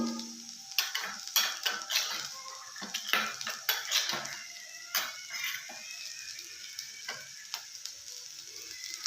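A spoon clinks and scrapes against a pan while mixing peanut powder into North Karnataka style lady finger (okra) palya, sharp irregular taps over a soft, faint sizzle.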